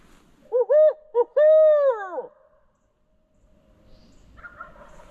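A hunter's voice imitates an owl, giving a short burst of loud, close hooting calls, followed by quieter distant sounds in the turkey woods.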